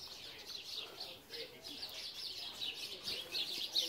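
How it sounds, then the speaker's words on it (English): Small birds chirp and tweet steadily in a quiet native plant garden, bright repeated calls overlapping at moderate distance. "you can hear all the birds"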